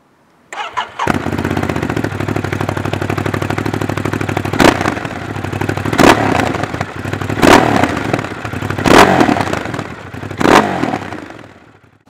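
A Ducati DesertX motorcycle engine fires up and runs steadily and loudly close by, with several sharp bursts of revving spaced through the run before the sound tapers off as it moves away.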